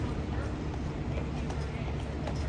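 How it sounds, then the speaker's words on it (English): Horse hooves clip-clop on a street in the French Quarter of Charleston, South Carolina, as a soft irregular clatter beneath steady broadband street noise. "Hello, Mr. Horsey Horse."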